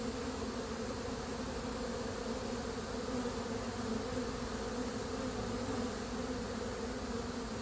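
A swarm of honeybees hums steadily around a hive during a removal in Winter Haven, Florida, a dense, continuous buzz that stays even and close throughout with no voices.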